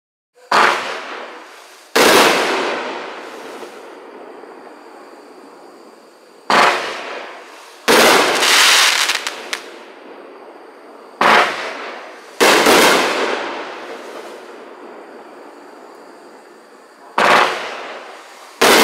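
Several loud bursts from a 500-gram, 24-shot fireworks cake, each a sharp crackling volley that decays slowly, separated by quieter pauses of a few seconds.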